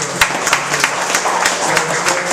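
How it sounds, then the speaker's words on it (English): Audience applause at a community gathering in Lower Manhattan, honoring a man for his service; a steady patter of many hands clapping at moderate loudness, fairly close, with no one speaking over it. "we give a round of applause to Peter for his service"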